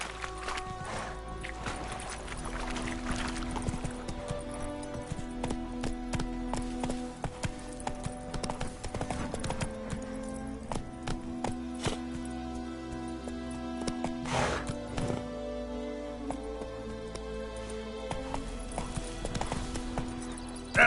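Geralt's horse Roach galloping in The Witcher 3 game, a fast, steady rhythm of hoof clip-clops throughout, close and clear with faint background game sounds.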